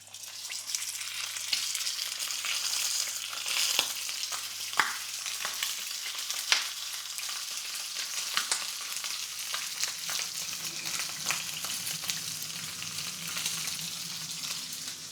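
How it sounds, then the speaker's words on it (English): A steak sears in a very hot pan on high heat with the extraction running, a steady crackling sizzle dotted with sharp pops and spits, moderately close, no one speaking. "You will see the sizzle, or hear the sizzle."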